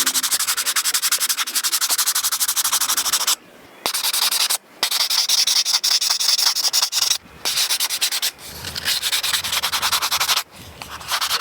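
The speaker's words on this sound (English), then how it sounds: "So this little sponge sanding block is excellent for these carvings." Steady scratchy rubbing of a sponge sanding block on carved wood, smoothing a whittled gnome's hat, continuous strokes broken by a few brief pauses, close and fairly loud.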